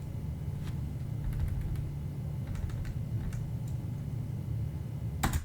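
Quiet hotel room ambience on a morning, a steady low hum of room tone with faint scattered ticks and small clicks, a short burst of soft clatter near the end, no voices.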